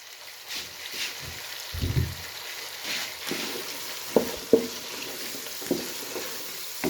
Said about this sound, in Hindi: ये अच्छी तरह फ्राई करना है इसको